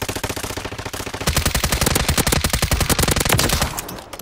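Rapid automatic gunfire in Call of Duty: Warzone, a fast steady stream of sharp shots that grows louder and heavier partway through, then cuts off near the end, with no talking.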